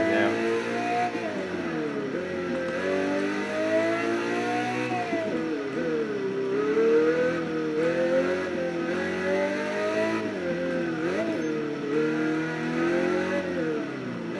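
A Pagani Zonda engine in the racing game Test Drive Unlimited 2 revs and climbs through gears, a loud, steady growl rising and dropping repeatedly as it accelerates and shifts.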